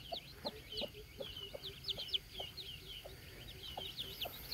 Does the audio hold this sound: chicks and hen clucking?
yes